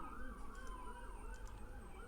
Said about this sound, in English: sorry for all the sirens, I live in Brooklyn, which is loud